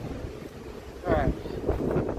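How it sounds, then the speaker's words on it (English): Wind gusts across an outdoor rocky spot in the Pennsylvania wilds, a low steady rush that swells near the middle. Faint voices sound underneath. "Ooh, that wind."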